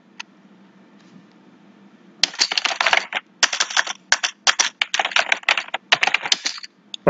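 Fingers type on a computer keyboard, a quiet lull followed by bursts of rapid, close clicking keystrokes with short pauses between runs.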